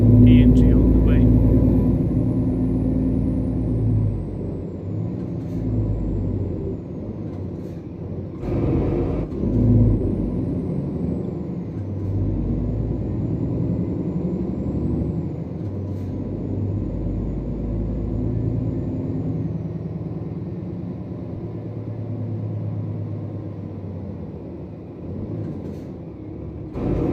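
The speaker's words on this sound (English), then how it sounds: "The idle sound of the Scania is crazy, like it's way louder when it's idle than when it's in gear." Scania truck engine idling in Euro Truck Simulator 2 on an Île-de-France map, a steady low rumble throughout with a brief hiss like an air brake near the start and someone talking over it.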